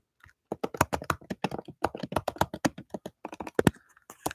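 Fingers type quickly on a computer keyboard, producing a close, dense run of crisp key clicks with brief pauses, with no talk over it.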